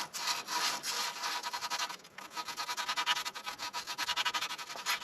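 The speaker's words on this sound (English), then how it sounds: "lightly sand the area down below the tape" Light hand sanding scuffs the area below the tape on a K&K Kustomz Silver Bullet power pole blade tip, a steady rhythmic back-and-forth rasp with brief pauses, close and alone.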